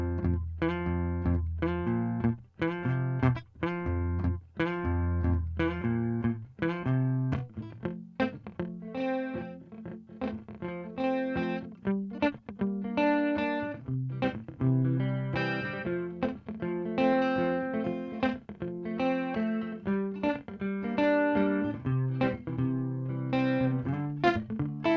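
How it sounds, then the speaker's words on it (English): Spring reverb from an EMT plugin by PSP applied to a full band mix during a mixing session, with dense continuous music, rhythmic chords and a washy reverb tail throughout, no talking. "A little spring reverb."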